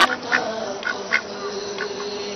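A duck quacks several times in short, nasal calls, close and distinct over a low steady background.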